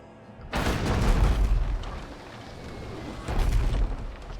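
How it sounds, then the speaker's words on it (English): Naval guns blast at an enemy ship in the Abandon Ship video game: two loud, booming broadside volleys, the first near the start and a second about three seconds later, with rumbling decay between them and no talk. "I think I would like to hit the back with both my guns."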